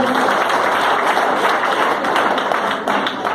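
People at an RCM business meeting in Dausa clap together in a brief, dense burst of applause that stays steady and fairly close throughout.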